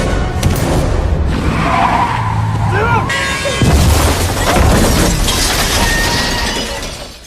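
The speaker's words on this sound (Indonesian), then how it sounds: "Sarah pun bisa keluar dari mobil dengan menabrakkan mobil ke sisi gawir." A car in a film scene skids and crashes into the side of a ravine: screeching tires, a heavy boom and shattering glass, loud and chaotic, with voices mixed into the commotion.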